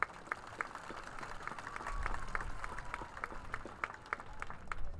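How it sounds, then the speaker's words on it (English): A crowd applauds at a high school graduation ceremony, with steady, fairly distant clapping that swells slightly midway and continues evenly throughout. "Let's give them a round of applause,"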